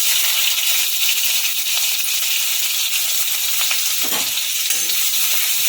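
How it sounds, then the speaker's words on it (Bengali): Chopped onion drops into a wok of hot oil with fried cumin seeds, giving a loud, continuous close sizzle with faint stirring scrapes and no voices. "জিরেটা ভাজা হয়ে গেছে এবার আমি দিয়ে দেবো কোচানো পেঁয়াজটা"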